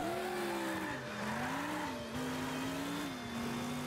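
A muscle car in the PS5 game Dreams revs steadily with a droning engine while the tires squeal and skid, continuous and loud with shifting pitch as it slides through turns.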